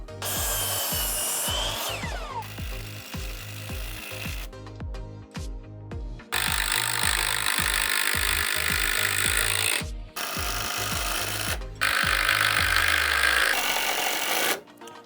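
A power saw cuts miters in 2x4 blocking for a composite decking boardwalk in a backyard. The cutting is loud and harsh with a pulsing rhythm, broken into several separate passes by short pauses.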